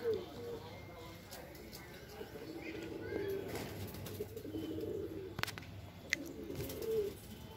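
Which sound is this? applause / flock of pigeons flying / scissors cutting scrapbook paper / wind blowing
flock of pigeons flying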